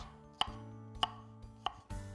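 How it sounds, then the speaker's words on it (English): Three evenly spaced knife strikes on a cutting board as peeled, seeded cucumber is cut into fine dice. The chops are close and crisp, followed by a soft clatter in a quiet kitchen. "then chop that into fine dice"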